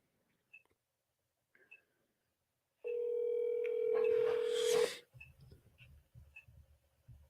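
A telephone dial tone holds steady for about two seconds, overlapped by a rising burst of noisy dialing or line sounds, then quiet clicks and faint rumbling follow.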